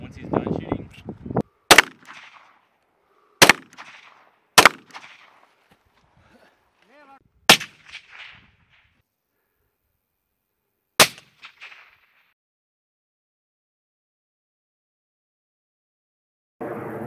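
Sniper rifle shots at a European sniper team competition in Germany: five sharp, loud reports spaced several seconds apart, each with a short echoing tail, with people talking quietly at the start.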